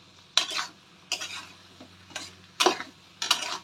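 Pointed gourd (potol) frying in a pan for alu potoler ghonto gives short sizzling bursts as it is stirred, five distinct scraping stirs spaced roughly a second apart, close and fairly loud against quiet.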